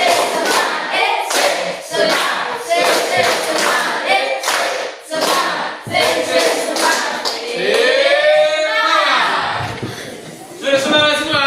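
A class claps a rhythmic counted clap chant, bursts of claps set between children's voices calling out together, with chatter and laughter mixed in.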